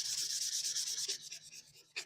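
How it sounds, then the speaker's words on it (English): Hand sanding on the body panels of a Dodge Avenger during bodywork, a close, steady rhythmic scratchy rubbing with quick back-and-forth strokes that slows and breaks up near the end. "Now I'm just finishing up with the sanding."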